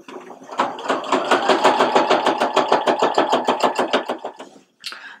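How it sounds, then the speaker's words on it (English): A sewing machine running a row of stitches on a button-down shirt, with a fast, even mechanical chatter up close for several seconds, a brief stop, and then a short burst again. "So I'm going to do a row of stitches where I've just folded"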